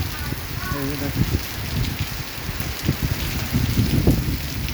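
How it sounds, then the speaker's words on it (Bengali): Heavy rain pours in TTDI, Kuala Lumpur, Malaysia, a dense, continuous patter of drops close to the microphone, with a brief voice rising over it near the start. "প্রচণ্ড বৃষ্টি প্রচণ্ড এই যে দেখেন"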